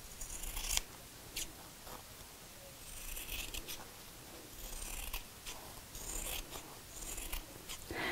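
Scissors cut fabric along a marked line for a sewn coat hanger zip cover, giving a series of sharp, close snips at irregular intervals.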